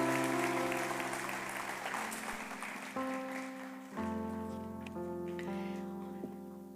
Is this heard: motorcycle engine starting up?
no